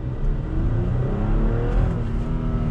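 A 2020 Toyota Tacoma Limited midsize pickup pulls under throttle in first gear, heard from inside the cab as a steady engine drone with a slowly rising whir and no voices.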